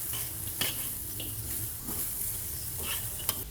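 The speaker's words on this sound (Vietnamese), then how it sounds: "Nấm mình cũng không cần xào quá lâu, nếu mà xào lâu quá thì nấm sẽ ra nước và mất ngon á." Mushrooms being stir-fried in a pan for fried noodles with shrimp, a soft steady sizzle with occasional scrapes and taps of a utensil stirring, close and moderately quiet.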